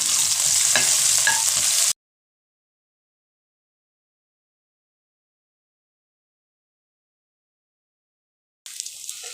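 Curry leaves, green chili and grated ginger fry in a pan with a bright crackling sizzle for about two seconds, then abrupt silence, before a fainter frying sound returns near the end.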